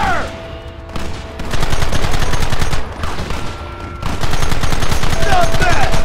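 Sustained gunfire from a Red Dead Redemption shootout, with rapid overlapping shots that swell into loud continuous volleys. Shouted voices carry under the shooting.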